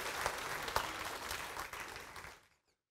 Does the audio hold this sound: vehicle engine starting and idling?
no